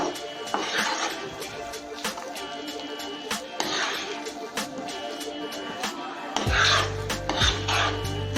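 Semolina and moong dal being mixed in a pan for ukkarai, with intermittent scraping and clinking of a utensil against the metal, fairly close, under a speaking voice.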